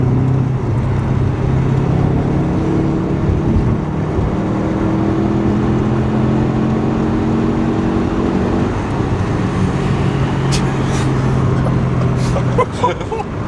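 A 2005 Subaru Forester STI with an aftermarket 4.5 inch exhaust back box gives a steady, loud engine drone with low tonal hum that shifts slightly in pitch over time, close by and continuous.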